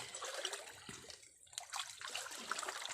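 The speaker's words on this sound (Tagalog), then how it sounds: "Bulabog ko na yung tubig." Spring water splashes and trickles close by, stirred in irregular sloshing movements, fairly soft with no voices.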